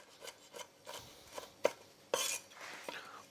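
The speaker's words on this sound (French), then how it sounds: "Je prends quelques cacahuètes. Alors on va les concasser" A few peanuts are crushed for a wok-cooked pad thai, giving a run of irregular dry crunches, taps and rasping scrapes, fairly quiet and close, with one brief louder rustling burst.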